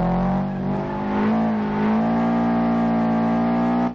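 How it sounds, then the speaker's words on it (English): Sim racing car engine droning steadily and loud, its pitch dipping and rising in quick throttle blips as the transmission downshifts, with no talk over it. "When you downshift, the engine blips automatically on the throttle to avoid locking the wheels while downshifting."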